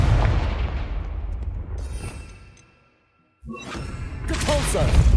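A Confringo spell in Hogwarts Legacy goes off as a loud, rumbling blast with a long roaring tail that fades to near silence, then a fresh burst of crashing noise follows.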